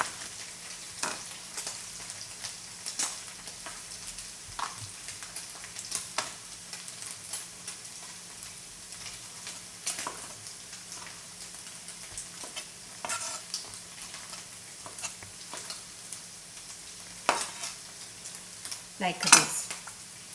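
Cuttlefish being stir-fried in a pan for a jjajangmyeon platter: repeated spatula scrapes and utensil clinks over a faint, steady sizzle, with a brief spoken remark near the start.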